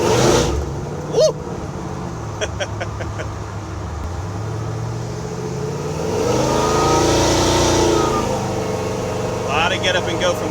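A lowered 1965 Chevrolet C10 pickup with a boosted Mass Motorsports engine swells as the throttle opens, a loud rising rumble heard from inside the cab, with voices talking over it.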